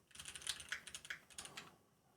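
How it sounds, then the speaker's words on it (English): Quick keystrokes on a computer keyboard, a faint, rapid run of light clicks lasting under two seconds with no talking over them. "We might just type some things."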